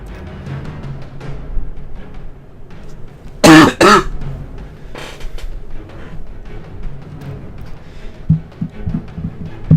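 Two sharp coughs burst out in quick succession, loud and close, amid otherwise quiet background noise and faint soft sounds.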